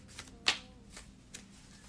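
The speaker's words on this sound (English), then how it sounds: "And we got to get to shuffling these cards for Kaya." Oracle cards being shuffled by hand during a reading, a few soft, quick riffling flicks with one sharper slap, quiet and close.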